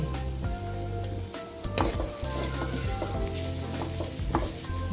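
Steady sizzle of frying in coconut oil over a low flame, with occasional stirring scrapes, close and continuous, no voices.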